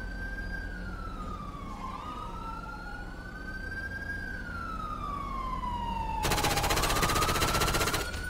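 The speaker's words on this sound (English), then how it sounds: "I think he's returning gunshots at me. Yeah, he's returning fire." Rapid gunfire crackles in a police shooter game, loud and dense over the last two seconds, following a long stretch of wailing, pitch-sweeping siren tones.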